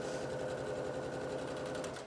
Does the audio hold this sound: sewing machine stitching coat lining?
yes